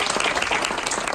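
A brief burst of dense clapping from a seated audience at a business leadership school event, loud and even throughout the short moment.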